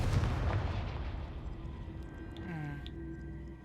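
A Confringo fire spell explodes in Hogwarts Legacy, a heavy booming blast at the start that rolls off into a rumbling tail with faint magical whooshes and tones over steady game ambience.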